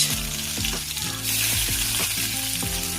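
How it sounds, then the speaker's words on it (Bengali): Onions frying in a pan for a panta bhat khichuri give a continuous close sizzle, rising in intensity partway through, with soft background music running underneath. "পেঁয়াজ ভাজা হয়ে গেলে"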